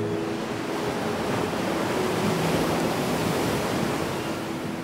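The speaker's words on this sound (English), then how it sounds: "the wind was still pretty strong" Strong wind buffeting a microphone on the Big Sur coast of California, mixed with steady surf; a dense, continuous roar holds at an even level throughout with no voices.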